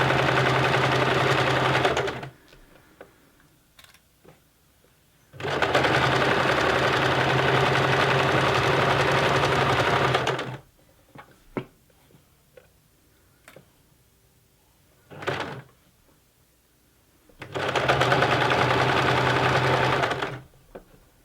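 A sewing machine stitches a honeybee cushion in three loud, steady runs of rapid mechanical whirring, separated by quiet gaps with small clicks and fabric handling.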